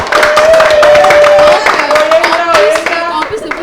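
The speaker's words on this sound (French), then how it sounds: "On va applaudir." A studio audience claps along on a talk show, loud rhythmic hand claps over a sustained tonal sound that may be music or cheering, with crowd voices mixed in.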